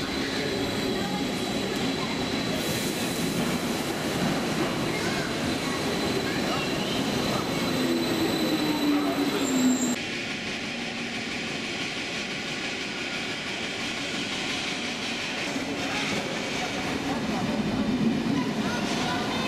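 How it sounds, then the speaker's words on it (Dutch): Berchtesgadener Landbahn train arriving at Salzburg station, a moderate rumble of the train pulling in under station ambience with a rising tone that cuts off midway, while someone talks over it. "waar een trein van de Berchtesgadener Landbahn binnenkomt."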